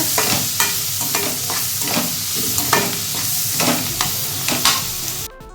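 Onions and curry leaves sautéing in a pan over a medium flame for Chettinad chicken curry, with steady close sizzling and repeated rhythmic stirring scrapes throughout.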